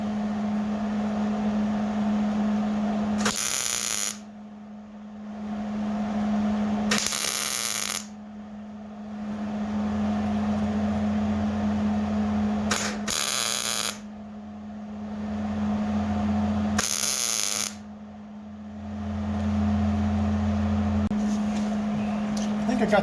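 A welder on sheet metal of a Ford F250 restoration sounds in several short, loud crackling bursts separated by pauses, over a steady low electrical hum and a background drone.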